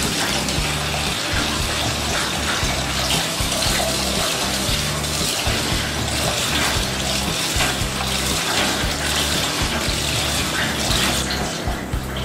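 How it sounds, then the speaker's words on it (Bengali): Cold tap water runs continuously over strained vermicelli in a strainer, a loud, steady gushing rinse that never lets up. "ছাঁকার পর আমি ঠান্ডা পানি দিয়ে ধুয়ে নিব।"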